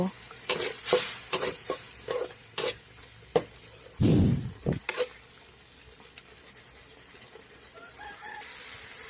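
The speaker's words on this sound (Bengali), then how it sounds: "এখন একটু জল দিয়ে আবার ভালো করে ভেজে নেব।" Chicken and potatoes for a torkari frying in a pan after a splash of water is added, with repeated sharp clanks of stirring over a low sizzle and a brief louder hissing burst midway.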